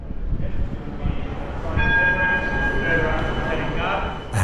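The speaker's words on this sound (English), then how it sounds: "And the pleasant sound of trams dinging up above." Tram bells ding overhead above an underground metro station entrance beneath a timber canopy, a few bright repeated tones ringing out over a steady rumble of station ambience and crowd murmur.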